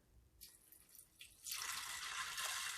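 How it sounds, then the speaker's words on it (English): Tap water pours over rinsed dried black beans in an Instant Pot, starting as a few short splashes and then becoming a steady, close, broadband rush. "once I put them in the pot, I just cover them with water"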